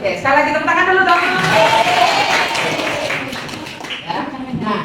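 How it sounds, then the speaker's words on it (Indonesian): A classroom of students clapping hands together after their teacher asks for another round, dense overlapping claps at steady volume with voices and chatter mixed in throughout. "sekali lagi tepuk tangan dulu dong."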